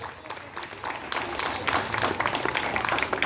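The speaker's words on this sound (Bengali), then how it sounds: "সবাই জোর করে একটু হাততালি ওর জন্য" A crowd claps for a prize winner receiving a certificate, the applause building into a dense, uneven patter that stays moderately loud throughout.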